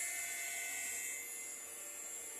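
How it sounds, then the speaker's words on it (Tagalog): A DTF printer runs with a steady high mechanical whine and hum, an even drone held at constant level without a break. "Ito po ang aking printer."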